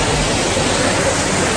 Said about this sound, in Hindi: छोटा ही सा वाटरफॉल है लेकिन बहुत ही प्यारा लग रहा है।